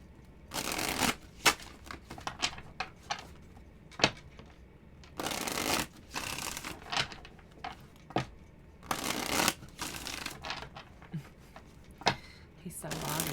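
A deck of oracle cards is shuffled during a tarot reading, with repeated crisp riffling bursts close to the microphone and quiet pauses between them.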